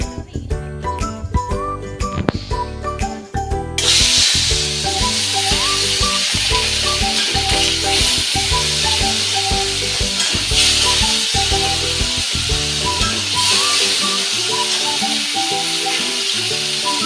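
Hilsa fish fries in hot mustard oil with a loud, dense sizzle close by, and a spatula scrapes and clinks against the pan. Music plays underneath.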